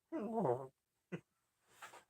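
A cat hiding under a toolbox in a shop gives a drawn-out, wavering yowl, then a short chirp and a rougher breathy cry, fairly close and separated by brief silences.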